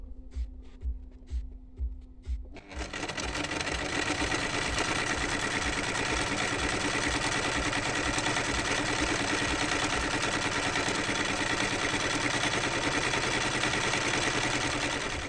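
A Chaika 144A sewing machine first ticks through a few quick stitches, then settles into a continuous loud, steady whirring hum as it sews a decorative stitch at full speed, close and with no talk.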